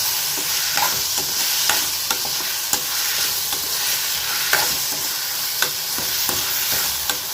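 Tomatoes sautéing with salt in a pan for paneer butter masala, a steady close sizzle with regular scrapes and taps of a spatula against the pan throughout.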